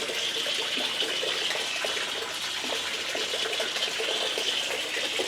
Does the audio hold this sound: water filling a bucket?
yes